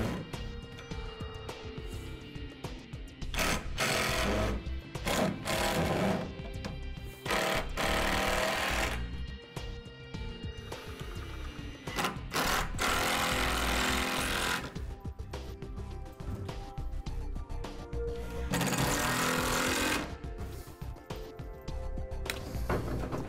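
A Rack em shelf crossboard being fastened into its supports inside an enclosed trailer: repeated close, loud whirring bursts of a power driver, some long and some short, with brief pauses and clatter in between.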